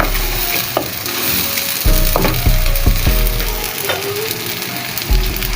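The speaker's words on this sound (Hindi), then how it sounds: "मगज अच्छी तरह भून गया है।" Goat brain masala frying in a pan, a loud steady sizzle with a few sharp scraping stirs and clinks against the metal, close up and without talk.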